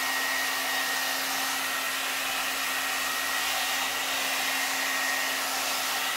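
A SUTRA blowout brush blow-drying damp hair: a continuous, loud, steady motor whine and rushing airflow with a fixed hum, close by and uninterrupted by talk.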